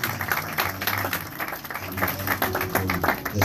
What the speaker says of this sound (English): Let's give this music ministry a round of applause